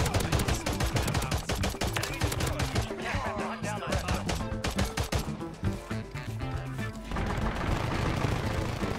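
Rapid bursts of Glock 16 pistol fire in the Call of Duty battle royale on Rebirth Island, loud and continuous shots packed tightly across the whole stretch, over dense game audio with no speech.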